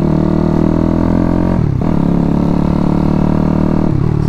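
A Daytona 212cc engine fitted to a Grom clone motorcycle runs loud and steady at close range, its RPM dipping briefly twice and then recovering, with a faint ticking from an exhaust leak.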